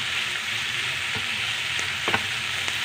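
Salted onions sauté in a pan with a constant hissing sizzle, punctuated by a few soft stirring knocks against the pan.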